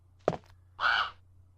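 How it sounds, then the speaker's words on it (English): Birds in the 1995 prototype of the Resident Evil video game let out one short sharp call, then a longer, rougher caw, close and clear over a low steady hum. "See all those damn birds up there."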